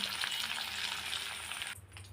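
Vegetables for a bean dish with paneer and mustard sizzle steadily in hot oil in a pan, a close, dense crackle that cuts off sharply near the end, leaving a low hum.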